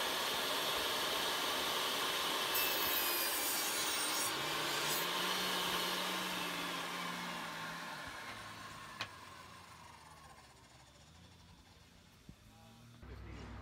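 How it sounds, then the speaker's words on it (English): A table saw with a crosscut sled cutting wood at a woodworking gathering, its motor whine and blade rasp swelling then winding down, with a couple of sharp clicks near the end. "Here he's working with Nick Ferry's famous table saw sled."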